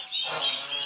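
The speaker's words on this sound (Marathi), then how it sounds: "या व्हिडिओमध्ये जो पक्षी तुम्हाला दिसत आहे हा 3 दिवसाचा व्हाईट पेकिंगचा पक्षी आहे।" A three-day-old White Pekin duckling gives a steady, high-pitched peeping call. It is close and fairly loud, and it carries on without a break for under a second.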